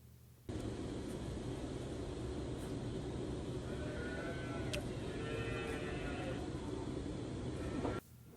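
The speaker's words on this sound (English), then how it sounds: "You can hear all our hungry little baby calves in the background." Hungry baby calves call at morning feeding time on a dairy farm, with faint bleating cries in the background under a continuous broad noise bed.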